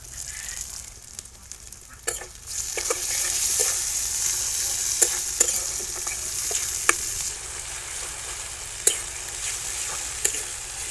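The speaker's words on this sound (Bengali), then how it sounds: "মশলাটা ভালো করে কষাই নিতে দেবো" Spice paste with tomato fries in a pan for a cauliflower stalk dish, giving a loud, continuous close sizzle with occasional sharp spoon scrapes and knocks from steady stirring.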